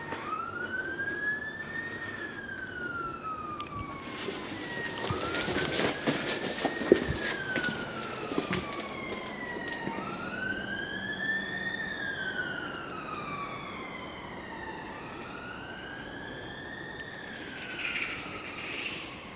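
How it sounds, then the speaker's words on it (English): A wailing emergency siren rises and falls in repeated slow sweeps, fairly distant, over low road rumble. "Is that police or ambulance?"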